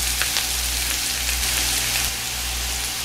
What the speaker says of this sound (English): We see the lemon zest is starting to cook now and shrinking a little bit